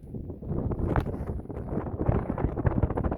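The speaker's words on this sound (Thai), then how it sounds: "ริมทะเลมันจะเป็นลมอย่างเงี้ยค่ะ" Wind gusting across a seaside clifftop in Iceland, a steady low buffeting roar with broadband rushing that swells and dips throughout, close and continuous with no talk.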